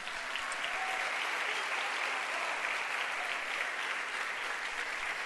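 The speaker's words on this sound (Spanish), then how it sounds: "¿Cuántos pueden aplaudir por eso?" Steady applause from an audience fills the whole stretch, a dense even patter of many hands clapping with no voices rising above it.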